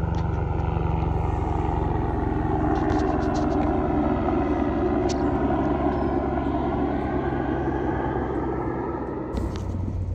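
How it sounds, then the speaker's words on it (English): A steady, loud engine drone with a deep throbbing rumble holds throughout as a helicopter approaches along an outback track near Eyre Creek and Birdsville, Queensland, with no one speaking. "Sounds like a chopper coming up the track."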